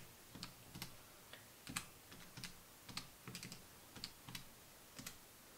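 Computer keyboard typing: a quiet, irregular run of light key taps, spaced unevenly with short pauses and no voices.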